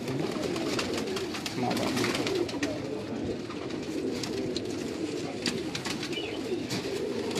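Pigeons coo repeatedly at a loft, including a flying pigeon of Kamgar blood and its parents, with soft rhythmic calls under a voice and light background bustle.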